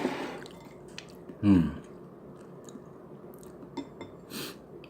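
Someone eats doenjang, Korean soybean paste with soy protein and a little beef, from a civilian Type II emergency ration, giving soft close wet chewing and squishing, with one brief louder vocal murmur early on.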